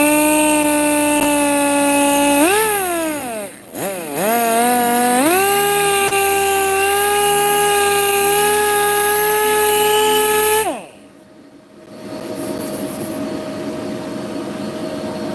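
Power sanding paint on a BMW E36 M3 hardtop: a loud, steady motor whine winds up, dips briefly, runs on and then cuts out, leaving a lower hum afterward.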